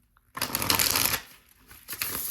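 Tarot cards shuffled by hand during a card reading, a dense crisp riffling burst that fades briefly and then resumes, close and alone with no voices.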